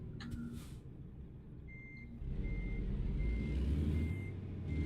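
Reversing beeps from a semi truck in the CarX Street driving game, a steady series of evenly spaced high electronic beeps over a low diesel engine rumble that swells partway through, with no talking.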